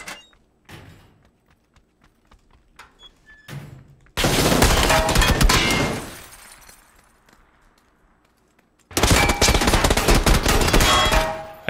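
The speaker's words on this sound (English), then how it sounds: "I just shot this guy in the head." PUBG Tommy gun firing in a Taego duos match: two long, loud bursts of rapid automatic gunfire, each several seconds, with a few short isolated shots and clatter between them, no talking.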